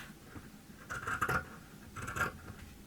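Scissors snip through face-mask lining fabric in two short bursts of crisp, close scratchy cuts, with quiet pauses between them and no talking.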